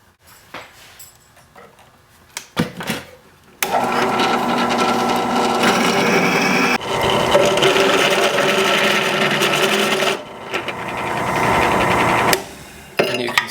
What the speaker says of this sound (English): we're going to put a bigger drill bit in, drill this out